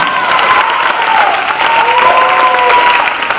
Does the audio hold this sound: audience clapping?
yes